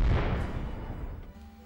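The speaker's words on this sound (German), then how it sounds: "Im Gegensatz zu ihnen hatte er nämlich Kanonen." Cannon fire, a heavy boom at the very start whose low rumbling tail decays over more than a second, heard alone without voices.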